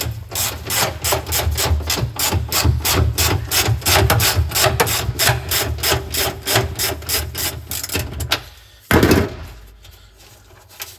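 A wrench ratchets rhythmically as a bolt on a Classic Mini rear subframe is worked loose during restoration, with fast even clicking strokes up close for about eight seconds, then a sudden metallic clunk and a brief pause.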